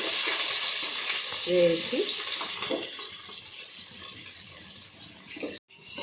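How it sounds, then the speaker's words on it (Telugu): Onions sizzle in hot oil with bay leaf, whole biryani spices and green chillies for chicken fry biryani, giving a steady hissing fry broken by a brief stirring scrape before the sound cuts off abruptly. "ఆనియన్స్ బాగా ఎర్రగా వేగాలి."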